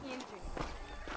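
Horses whinny in a Western game setting, a short neigh rising over hoof clatter while a voice talks over it close by.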